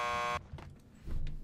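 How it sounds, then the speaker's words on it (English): A door buzzer in the video game Max Payne 2 sounds one steady electronic tone for well under half a second, followed by faint clicks and low room noise. "Just press the buzzer by the door. Petersburg will buzz you in."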